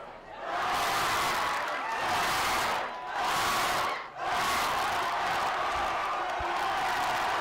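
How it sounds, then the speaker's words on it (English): A rowdy student crowd roars and cheers in the stands at a varsity high school football game between the Rapids and Monarchs, loud sustained yelling in surging waves with brief dips between bursts. "The Rapids crowd is rowdy and rowdier than earlier."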